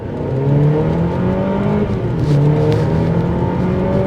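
A Lexus RC200t accelerates hard, its engine note climbing in pitch through the revs as a loud, close drone heard from inside the car, rising again after a brief dip, with no talking.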